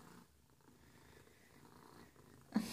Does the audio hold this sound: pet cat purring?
yes